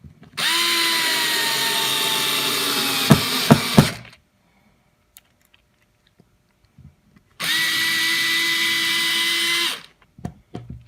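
A cordless power drill drives screws into pre-drilled holes while a motion-sensor solar security light is mounted: two sustained, loud whirring runs of about four and three seconds, separated by quiet, with clicks and knocks around each run.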